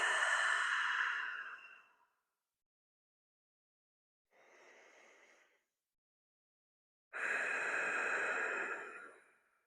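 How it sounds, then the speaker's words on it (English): Slow, deep breaths during a yoga session: a long airy exhale, a quieter short breath after a pause, then another long full exhale, close and alone. "One more breath."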